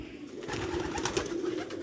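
Home-bred pigeons coo in a brief, soft, continuous murmur of low throaty notes nearby, with no talking.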